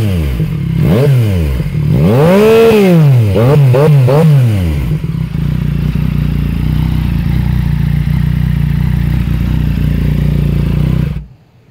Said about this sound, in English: Here, let's do exhaust sound.